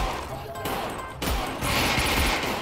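Gunfire rings out in the Half-Life: Alyx VR game with a realistic gun mod, dense overlapping shots and echoing blasts in an indoor space, loud and continuous across the moment.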